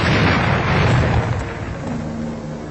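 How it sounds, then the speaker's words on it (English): Deep, rumbling blast of an ordinary bomb exploding on contact, a dense sustained roar with no spoken voice over it. "First, an ordinary bomb exploding on contact."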